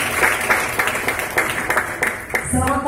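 Applause at a morning motivational talk for prospective insurance agents, a steady patter of hand claps running throughout, with voices and cheering rising near the end.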